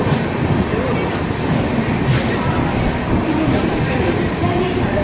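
The Sampark Kranti Express rumbles into a station on the Trivandrum to Mumbai route, a loud, continuous roar of rolling rail cars with faint wheel squeal, alone without talk.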